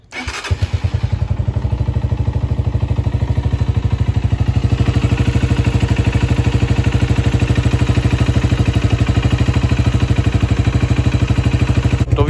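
A Honda CG 125 SE 2022 motorcycle engine cranks and catches, then settles into a steady, loud, close-up single-cylinder idle with an even rapid thumping pulse and mechanical clatter, no talking.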